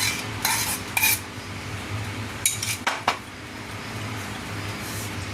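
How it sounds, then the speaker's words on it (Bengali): Dates and raisins being mixed together in a bowl for sugar-free dry fruit laddu, with a few light clinks and scrapes of a utensil over a low steady background hum. No one talks. "তো দেখুন এখানে খেজুর দিয়ে আমি এটা মেখে নিয়েছি"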